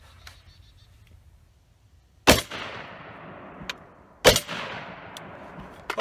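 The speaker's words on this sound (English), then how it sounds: "Now, 2 more shots of the 308." Two sharp .308 rifle shots strike steel body armor outdoors, each a loud, sudden crack with a ringing tail, spaced about two seconds apart, with no talk.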